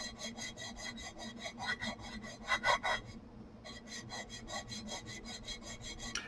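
Gun trigger parts are sanded and polished on a granite grit stone in quick, rhythmic back-and-forth scraping strokes, close and steady, with a brief pause midway.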